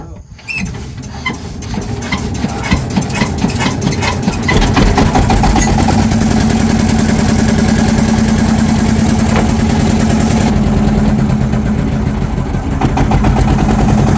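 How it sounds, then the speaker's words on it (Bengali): A boat engine coughs and catches, then settles into a steady, loud idle with a low rumbling drone that runs on unbroken. "ইঞ্জিন স্টার্ট দিতে হবে"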